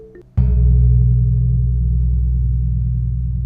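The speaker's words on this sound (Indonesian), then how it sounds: "Ini suara suan." A suwukan gong from a Javanese gamelan rings out after a single strike, a dense low, steady hum with faint beating that sustains strongly for several seconds without talk.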